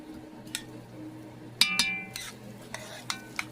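Meatball ingredients, including cinnamon, stirred together in a bowl: a handful of soft wet squelches and light clinks of a utensil against the bowl, quiet and close.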